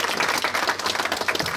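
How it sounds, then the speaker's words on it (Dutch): Dense, continuous clapping from an audience fills the room during the question round of the Miss Waasland 2022 beauty pageant, loud and steady throughout. "Applaus."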